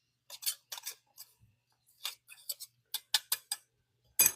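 A pastry blender cuts butter into flour for sourdough biscuits, producing a series of sharp, close scraping clicks in irregular bursts with short pauses between them. No voices are heard.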